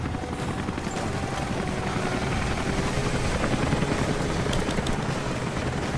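Helicopter in the video game Rise of the Tomb Raider, a steady, loud rotor roar with continuous broadband wash that holds evenly throughout, with no voices.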